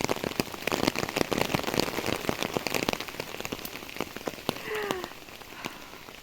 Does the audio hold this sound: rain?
yes